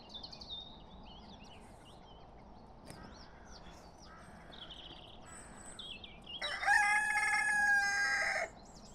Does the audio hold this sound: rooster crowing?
yes